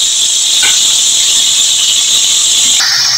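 A steady, loud hiss of small fish frying in oil runs throughout with no pauses, bright and close.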